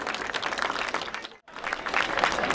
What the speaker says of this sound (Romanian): Încă un rând de aplauze pentru dragii noștri oaspeți